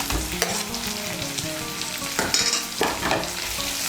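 Chopped tomato goes into onions already fried red in oil, making a dense, loud frying sizzle. Steady stirring scrapes keep up throughout the short stretch.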